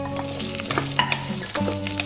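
Onions, yellow pumpkin, carrots and beans sauté in a pan for sambar, giving a steady close sizzle with scraping stirs.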